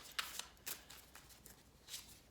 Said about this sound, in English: I am shuffling you in, and we will see what your message is.